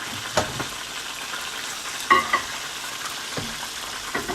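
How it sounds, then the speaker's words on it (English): Chicken frying low and slow in oil, a steady soft sizzle with a few sharper crackles and pops scattered through it, no talking. "That's what happens when you fry it low and slow."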